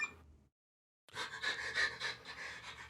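A pet dog pants close to a phone, quick rhythmic breaths starting after a short silence and continuing in steady, slightly uneven puffs at moderate volume.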